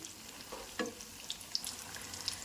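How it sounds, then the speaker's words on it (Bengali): Flour and potato snacks frying in oil, a soft, quiet crackle with a few faint pops and a light scrape as the pieces are turned. "একটু পর পর উল্টিয়ে পাল্টিয়ে নাস্তাগুলি খুব ভালোভাবে ভেজে নিতে হবে"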